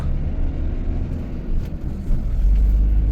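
A car drives along the road heading out of Vinnytsia toward Lviv, giving a steady low rumble of engine and road noise from inside the cabin, loud and continuous with no one speaking.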